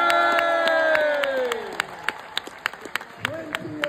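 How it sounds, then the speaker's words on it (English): Cheering and applause from the crowd at a live WWE wrestling event in Sheffield, a loud, dense roar with whoops that settles into scattered sharp claps and shouts as the noise thins out. "Round of applause for them as well, please."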